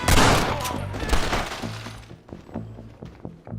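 Gunfire in a Red Dead Redemption shootout: a loud burst of rapid shots with shattering crashes at first, then a run of sharper, more spaced single cracks trailing off.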